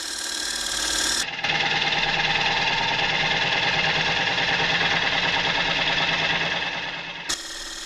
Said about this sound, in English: So here you're seeing the 3/8 bowl gouge.